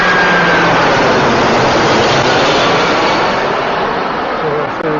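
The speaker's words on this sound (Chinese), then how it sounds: "这个是一架日航的班机" A Japan Airlines passenger jet flies low overhead near Vancouver airport, a loud, steady broadband engine roar that fills the whole stretch and eases off slightly toward the end.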